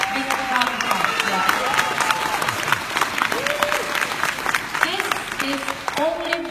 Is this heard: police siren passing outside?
no